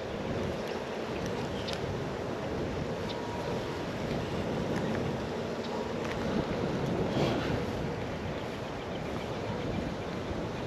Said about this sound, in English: We do have wind blowing in over here.